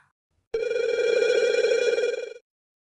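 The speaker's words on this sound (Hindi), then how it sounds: "और तभी बज उठा फोन" A telephone bell rings loudly and continuously for about two seconds, then stops abruptly, with silence on either side.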